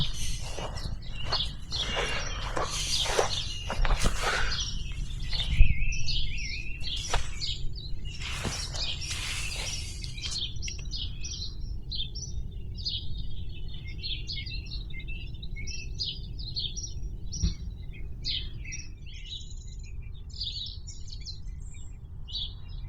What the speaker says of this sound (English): There is an abundance of bird life around with many of these cheeky weckers present.